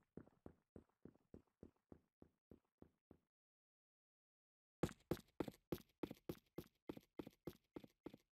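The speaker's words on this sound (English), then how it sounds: "you'll still be able to hear my test dummy walking around" Footsteps of a test dummy walking in the video game Krunker: a steady run of evenly spaced, crisp steps, softer for about three seconds, then a pause of silence before a louder, brighter, more forceful series of steps resumes at the same pace.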